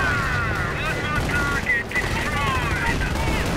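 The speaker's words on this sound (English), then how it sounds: "a fake artillery strike, but no, it was actually real" Artillery strike in a World War II real-time strategy game, with dense, continuous gunfire and explosions in a steady, loud barrage.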